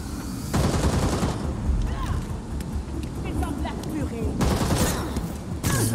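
Gunfire rattles in the Gotham Knights video game, with dense bursts of shots at the start and again near the end and a busy middle stretch of overlapping action sounds, fairly close and loud.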